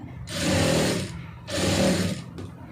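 A sewing machine stitches a plain blouse in two sustained bursts, close and loud, with a short pause between runs and a brief third start at the end.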